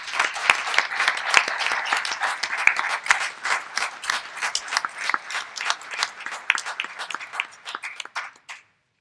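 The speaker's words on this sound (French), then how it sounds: "Veuillez l'applaudir." Sustained audience applause fills a closing-ceremony hall at a congress in Toronto, dense clapping from a large crowd continuing steadily for several seconds before cutting off abruptly, with no voices over it.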